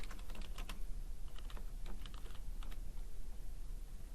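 Quiet, steady typing on a computer keyboard while entering a guest's name and contact details into a form, with quick clusters of soft key clicks over a low background hiss and nobody speaking.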